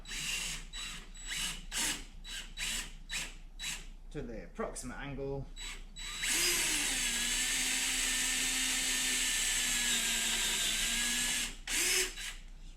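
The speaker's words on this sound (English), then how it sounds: "and just drill it deep enough so that you can hide the head" A power drill bores an angled hole into a balustrade during carpentry work, first in short bursts between spoken instructions, then in one long, steady, whining run before stopping.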